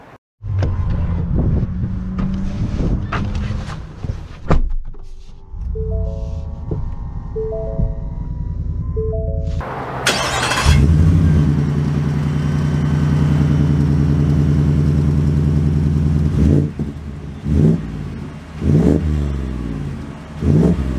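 A 2022 Ford F-150 FTX pickup truck starts off and drives away, its engine rumbling low and steady, swelling as it revs. Wind noise and a few chimes break through before the drive.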